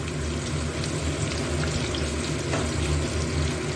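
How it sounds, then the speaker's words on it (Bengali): Onion frying in oil, a dense, continuous sizzle and hiss at steady loudness with no talk, heard close without any break. "পেঁয়াজটা একটু ভাজা হবে, একদম একটু নাড়াচাড়া না, একটু ভাজা ভাজাই করব পেঁয়াজটা।"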